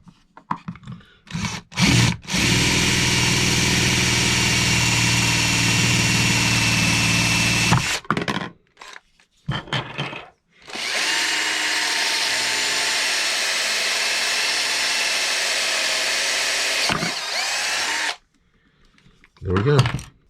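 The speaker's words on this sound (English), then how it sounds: "this drill will go all the way through into the bottom if I'm not careful, because it's a lot longer drill" A long power drill bit bores through wood, a loud steady grinding whine held for several seconds at a time in two long runs, with short pauses and brief handling noises between them.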